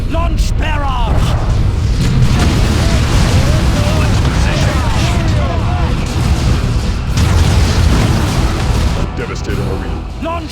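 Artillery barrage in the game Dawn of War II, heavy booms and rumbling explosions rolling continuously and loudly throughout, with shouted voices and battle noise mixed in.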